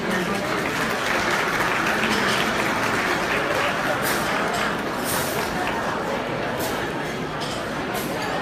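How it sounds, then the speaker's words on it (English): Loud, sustained applause from a large audience at a fundraising gala dinner, dense steady clapping that fills the room for several seconds without pause. "Please join me in a warm welcome and a round of applause for our keynote speaker, Mr. Momin Qureshi"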